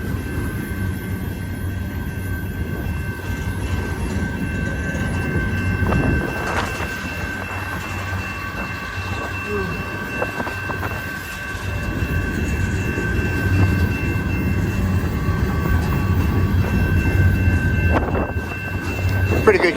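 The tail end of a Union Pacific freight train rumbles by on the Palmdale Cutoff, a continuous rolling roar with clanks and wheel clatter that swells slightly toward the end, alone and nearby.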